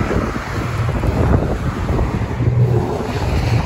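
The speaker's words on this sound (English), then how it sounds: "It's windy out here." Steady, heavy wind buffeting the microphone with low rumbling gusts, continuous throughout and no voices, recorded outdoors on a motorcycle ride in Texas.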